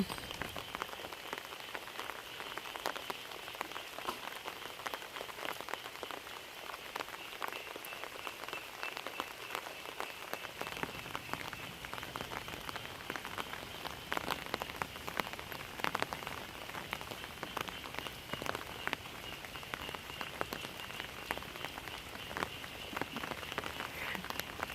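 Steady rain patters on surfaces outdoors throughout, dense and even with scattered louder drops, with no talking.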